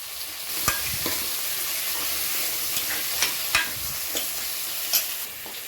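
Tomatoes and slit green chillies fry with onions in a hot pan, a steady sizzle broken by several sharp stirring scrapes and clinks spread through the clip.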